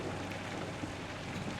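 Steady rain from the video game Kentucky Route Zero, heard while driving, a dense even patter that holds at the same loudness throughout with no voices.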